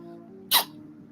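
A single sharp human sneeze, sudden and close, lasting only a fraction of a second against a quiet low hum.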